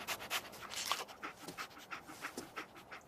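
Dogmeat, the dog in the video game Fallout 4, sniffs and pants in quick, rhythmic bursts of breathy puffs. The sound is close but fairly faint and continues steadily with no speech.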